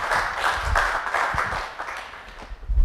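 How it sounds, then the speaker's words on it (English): Conference breakout room audience claps for an incoming speaker, a few rhythmic pulses of applause that thin out toward the end, with a couple of louder thumps near the close. "Give him a round of applause."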